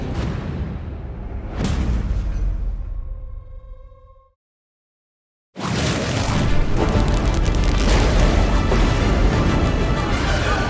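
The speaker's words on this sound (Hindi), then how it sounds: "शक्ति यंत्र से एक विस्फोट हुआ, इतना तेज कि पूरा समारोह हॉल कांप गया।" A loud explosion effect from a power device at a ceremony hall booms with a heavy impact that fades into a brief ringing tone, then silence, before a second dense blast of noise bursts in and stays loud.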